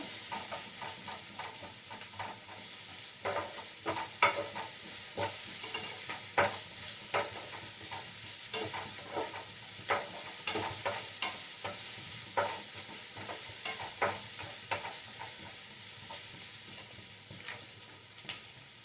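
Chicken sausage pieces, lightly salted, sizzle steadily in a hot pan while a spoon stirs them, giving repeated soft scraping taps over a continuous frying hiss, close and clear with no talking.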